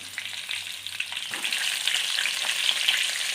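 Masala-stuffed brinjals fry in hot oil with mustard seeds for North Karnataka-style ennegayi, a close, continuous sizzling hiss that swells slightly louder as it goes on, with faint crackles.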